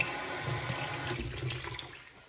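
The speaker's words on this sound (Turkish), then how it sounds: "İlk geldiğimde ben bu musluklara çok şaşırmıştım." Water runs steadily from an old village-pump-style tap in a villa in Didim, a soft continuous splashing hiss heard close up with no voices.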